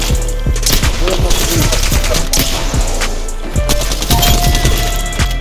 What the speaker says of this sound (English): Somebody else shooting at us though.